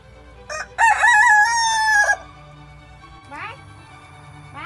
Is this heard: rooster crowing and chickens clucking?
yes